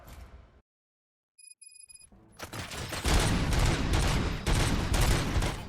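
Gunfire in the Robocop video game: after a brief silence and a few electronic beeps, a dense burst of rapid shots and loud blasts erupts and continues to the end.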